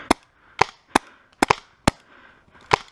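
A video-game sniper rifle fires first strike rounds, giving six crisp sharp shots at irregular intervals, some closely paired, each cracking loudly over near silence with no talk.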